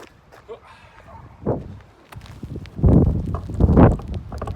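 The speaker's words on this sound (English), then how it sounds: "The wind has just picked up. It's a little bit windy." Gusty wind buffets the microphone in low, irregular rumbles, swelling louder and rougher during the second half.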